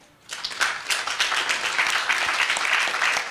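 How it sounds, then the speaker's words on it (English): Audience applause at a higher education quality forum, beginning abruptly after a brief quiet moment and then settling into sustained, even clapping from many hands. "we must applaud that"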